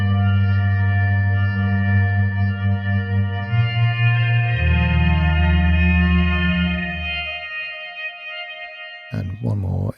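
A Pendleonium hybrid instrument by Sounddust drones through effects in thick low tones that step down and then fade away. A brief burst of brighter sound follows near the end.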